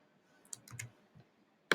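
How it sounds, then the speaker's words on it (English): Someone types on a computer keyboard to search a thesaurus, giving a few faint, quiet key clicks and then one sharper tap at the end. "I'm typing it into my thesaurus right now."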